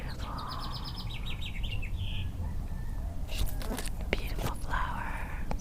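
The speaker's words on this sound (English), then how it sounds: "The beautiful birds." Birds chirping outdoors near a picnic table, a series of quick high tweets and trills at moderate distance, with breathy whispering and rustling close by.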